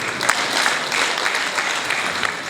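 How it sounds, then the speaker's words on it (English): An audience at a university lecture hall claps after a lecture, a continuous, even wash of many hands applauding at moderate loudness for a few seconds. "give him another hand clap"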